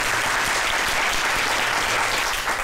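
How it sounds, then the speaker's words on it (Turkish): A dense, loud burst of audience applause on a Turkish cooking competition show, sustained and even for a few seconds with no voices above it. "Alkış. Kocaman bir alkış."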